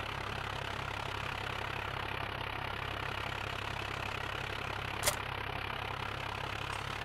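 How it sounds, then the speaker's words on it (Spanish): A tractor engine idles steadily in a farming simulation video game, a continuous low mechanical rumble with an even pulse throughout, broken only by one brief click near the end. "Voy a quitar de ahí el tractor aquí."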